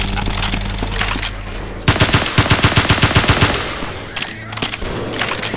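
Gunfire in Left 4 Dead 2: sharp, loud shots and a fast burst of automatic fire in a regular rapid rhythm, then scattered single shots under ongoing game noise, close and punchy.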